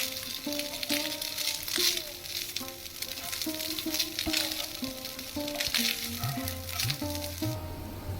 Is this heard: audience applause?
no